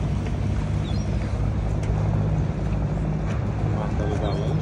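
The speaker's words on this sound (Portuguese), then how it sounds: "Bonita lancha." A public service motorboat of the Venice municipal line 22, a Vizianello-built launch, runs with a steady low engine rumble and water wash, close and continuous with wind noise throughout.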